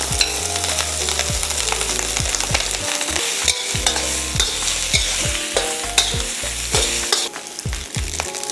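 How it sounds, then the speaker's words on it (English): Day-old rice being stir-fried for vegetable fried rice, a steady sizzle under repeated scraping stirs and tosses in the pan, close and fairly loud with no talking. "we want to give it a quick stir fry of day-old rice"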